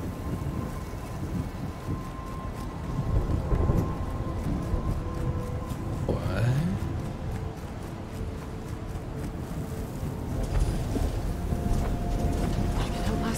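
A thunderstorm in Horizon Forbidden West, with steady rain hiss and wind under a continuous rumble, while faint game sounds come and go.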